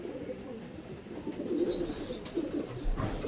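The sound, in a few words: racing pigeons cooing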